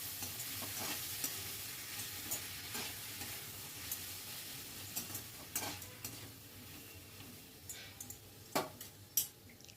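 Capsicum, tomato and peas frying in a wok are stirred, giving a steady sizzle with scattered scraping clicks and a few louder utensil knocks near the end.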